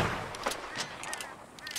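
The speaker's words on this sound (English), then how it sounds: "Put another shot in close." Rifle shots in Red Dead Redemption 2, a few sharp reports fired close by during a livestock roundup, set against outdoor game ambience.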